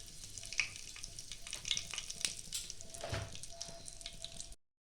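Asafoetida and a dried red chili hit hot oil in a pan, giving a steady close sizzle with crackling spits and a brief stir, before the sound cuts off abruptly.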